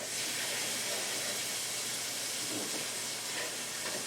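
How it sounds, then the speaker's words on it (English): Peas warming in a pan over heat, giving a steady, close hissing sizzle that holds level throughout with no pauses. "Peas are cooking."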